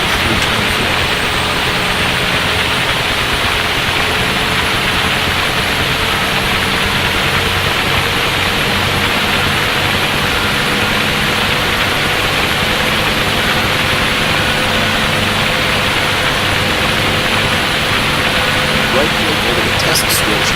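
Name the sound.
UH-1H helicopter engine spooling up in DCS World video game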